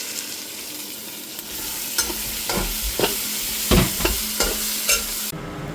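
Onion, garlic and ginger paste frying and being stirred in a pan, a steady close sizzle broken by repeated scraping stir strokes, with no talk.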